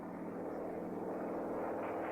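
Squadrons of propeller planes taking off from aircraft carriers, a continuous loud droning engine roar that builds slightly and holds steady with no break.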